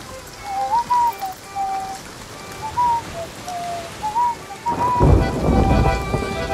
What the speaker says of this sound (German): Das ist scheiß Wetter hier. Ja, scheiß Regen da.